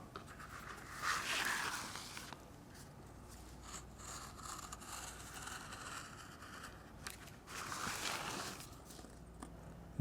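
Leather for a wallet is cut by hand, giving soft scraping strokes in two faint bursts separated by quieter rustling.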